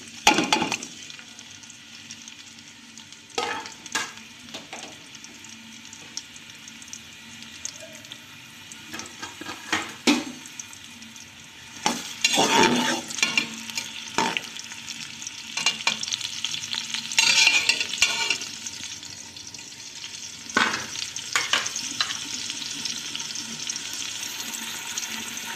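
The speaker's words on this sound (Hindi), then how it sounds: "प्याज को हमें लाइट ब्राउन करना।" Onions stirring and frying in a pot for aloo gosht, with scraping spoon strokes over a steady low sizzle, occasional louder bursts of clatter and brief running-water sounds, close and clear with no talking.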